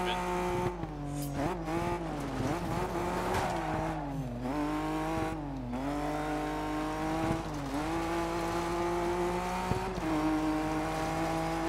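A BMW rally car in Dirt 3 races at night, its engine droning steadily with rising and falling revs through gear changes and tire scrubbing, while a player talks over it.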